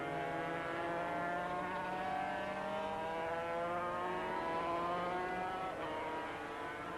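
250cc Grand Prix racing motorcycles, a Honda and a V-twin Yamaha, race at Silverstone with a steady high two-stroke engine whine, pitch sliding as they pass, fairly distant and even in level.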